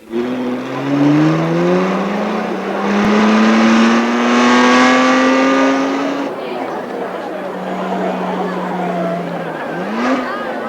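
Car engines starting and revving at the Magic Kingdom theme park in 1991, loud rising and falling engine tones that climb in pitch, with background crowd noise.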